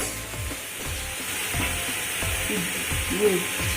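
Spices sizzle and fry in a pan as the base for a restaurant-style mixed paneer curry, a steady soft crackle with occasional stirring scrapes and a voice talking over it.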